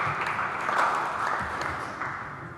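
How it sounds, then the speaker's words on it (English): An audience at a debate on Iraq and US foreign policy gives a round of applause, a steady dense patter of many hands filling the hall, moderately loud and unbroken. "I would even think it might deserve a round of applause."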